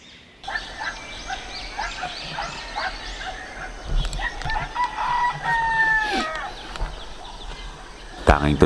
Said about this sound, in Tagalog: at tilaok ng mga manok ang maririnig ko.